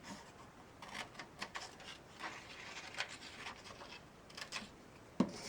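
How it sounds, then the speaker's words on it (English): Scissors snipping a thin rectangle out of paper for a snowman hat craft, soft scratchy cuts at a quiet, close level, ending in one sharper clip. "So I'll cut out a thin rectangle."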